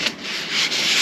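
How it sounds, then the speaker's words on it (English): Sanding a truck body panel during rust repair on a 2002 Ford F350, a continuous close, even abrasive rubbing hiss with slight swells in pressure. "it's a great day to come and do some sanding"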